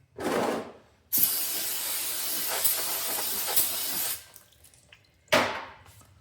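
Brake cleaner sprays onto the rear brakes of a Honda Pilot in three close, loud hissing bursts, a short one, then a long steady blast of about three seconds, then another short burst.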